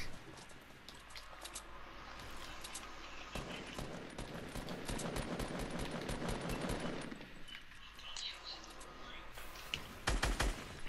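Rapid automatic gunfire in a first-person shooter video game, a long, fairly faint rattling burst of closely spaced shots in the middle, with scattered single shots and a louder crack at the end.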